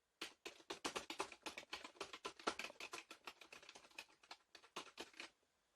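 HP K2500 wireless full-size keyboard being typed on, a quick run of crisp, close plastic key clicks in uneven bursts, quiet and alone, stopping abruptly.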